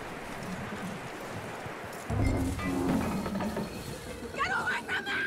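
Horse hooves clip-clop in Red Dead Redemption 2, a run of rhythmic hoof strikes that starts suddenly partway through over low ambient game sound, with voices speaking alongside.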